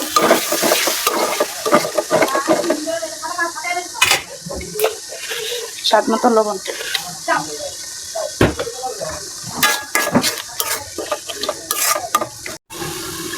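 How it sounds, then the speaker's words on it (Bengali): Spice paste of ground coriander, chili and radhuni powder stirred and fried with water in a pan for a Bengali beef curry, with steady sizzling and repeated scraping strokes close by, under a voice speaking. "পানি দিয়ে দেবো মশলাটা কষানোর জন্য।"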